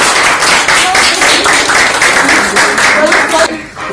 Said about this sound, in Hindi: कम ऑन तालियां